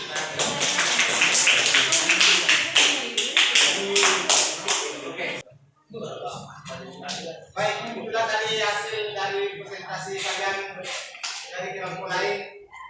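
Students in an Indonesian classroom clap for a group that presented a biography text about Ki Hajar Dewantara, with a burst of quick, close clapping for about five seconds before voices take over.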